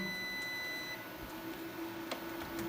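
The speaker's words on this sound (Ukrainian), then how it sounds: "Вмикаю інвертор." An Axioma 5 kW inverter switched on gives a faint steady electronic tone over a low hum, with a couple of brief clicks, no voices.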